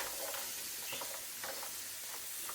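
Cold frozen vegetables added to a hot pan for pork fried rice, giving a faint steady sizzle and hiss with light stirring clicks, quiet and alone.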